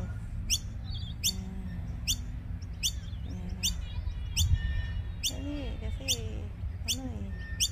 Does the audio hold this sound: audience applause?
no